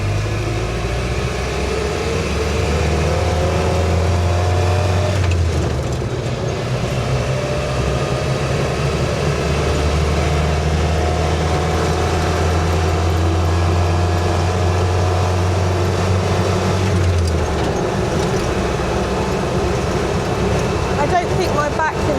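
Land Rover Series 3 Lightweight being driven, its engine droning steadily and close with a low rumble that shifts pitch partway through, running continuously under a voice talking.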